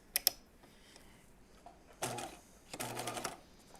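A sewing machine with an edge stitch foot topstitches a jeans pocket an eighth of an inch from the seam, running in two short bursts after a couple of sharp clicks, close and fairly quiet.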